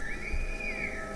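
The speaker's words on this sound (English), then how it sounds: "The scars will whistle to each other with this different language." Scars in The Last of Us Part II whistle a single long, clear rising-and-falling signal, steady and fairly loud against a faint low background, with no talk.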